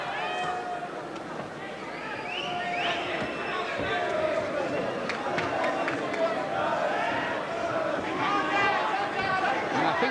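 A restless boxing arena crowd murmurs and calls out in a steady, dense wash of many voices, with scattered shouts and whistles rising above the hubbub throughout, while a commentator talks over it.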